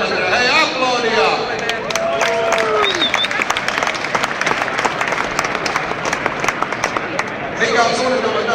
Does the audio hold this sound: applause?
yes